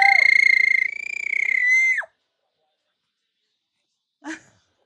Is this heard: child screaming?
yes